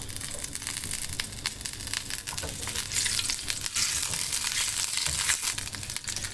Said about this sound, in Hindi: ऑयल गर्म हो चुका है, इसमें अब डालूंगी मैं ये थोड़ी सी, मैंने यहाँ पे लहसुन बचा के रखा था और हरी मिर्च ये डालूंगी।